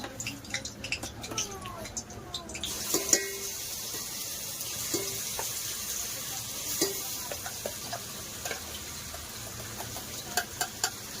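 Ground masala paste for chicken curry hits hot oil in a pan with bay leaf and curry leaves, producing a steady close sizzle with scattered crackles and light stirring scrapes throughout, no speech.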